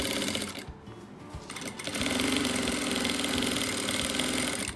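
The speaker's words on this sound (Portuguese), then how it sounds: "Dou retrocesso aqui também para poder prender bem essa alça." A domestic sewing machine runs steadily as it reverse-stitches to secure a fabric strap on a cloth cap, giving a fast, even mechanical whir with clicking underneath. Its pitch shifts partway through, and the sound is close and continuous.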